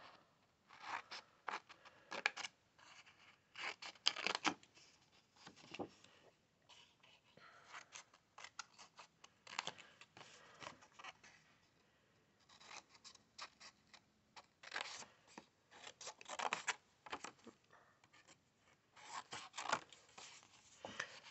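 Scissors snip through Pansy Petal designer paper to wedge off the edge of a gift box lid, giving quiet, close, repeated short cuts in irregular bursts with brief pauses between them.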